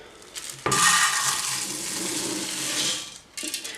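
About a thousand grams of melted candle wax pours from a pitcher in one continuous splashing stream that runs for a few seconds, then stops and starts again briefly.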